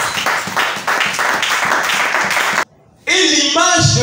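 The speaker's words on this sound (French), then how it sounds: "Acclame un peu la parole." A church congregation breaks into brief rhythmic clapping during a sermon, steady and close for a couple of seconds, then a short pause before a voice comes in.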